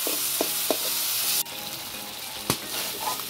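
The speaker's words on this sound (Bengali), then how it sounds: "এখানে চামড়াটা আমি একটু ভেজে নিলাম, আর একটু ভেজে নিয়ে এখানে নতি দিয়ে দিলাম" Broiler chicken skin, already cooked with ginger, garlic and spices, fries in a pan with taro stolons, a steady close sizzle broken by a few sharp scraping knocks and a sudden louder burst midway.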